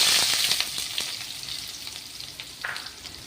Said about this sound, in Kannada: ಚೆನ್ನಾಗಿ ಫ್ರೈ ಮಾಡ್ಕೊಳ್ಳಿ.